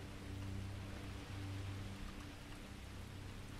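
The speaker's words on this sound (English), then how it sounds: "You could, like, actually hear the, rain, like, on the outside of the building" Rain in the video game Starfield falls outside a building, a faint steady hiss of heavy rainfall with a low hum underneath, heard alone.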